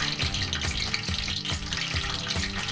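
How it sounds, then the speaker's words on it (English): Mozzarella sticks fry in hot oil with a loud, dense bubbling sizzle close by, broken by regular soft thumps that pulse through the steady crackle. "Now the oil is ready, I'm going to slip the mozzarella sticks in."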